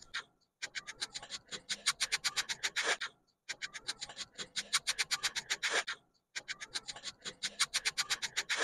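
A stiff brush scrubs dirt off a terracotta clay pot in three bursts of rapid, rhythmic rasping strokes, each separated by a short pause, close and fairly quiet, with no talking.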